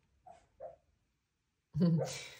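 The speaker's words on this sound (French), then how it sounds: "Et il rêve qu'il aboie." Dog asleep and dreaming, giving two soft muffled woofs, then a louder breathy bark-like whimper, close by in a quiet room.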